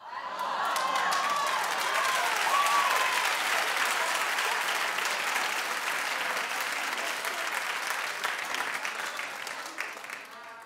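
Studio audience clapping on a talk show, a loud sustained burst of applause that holds steady for about ten seconds, with some whoops and voices in the crowd toward the start.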